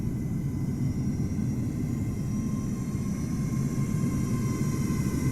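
A Boeing 777-300 airliner passing in a flight simulator game, a steady, moderately loud jet rumble and whine that holds evenly throughout.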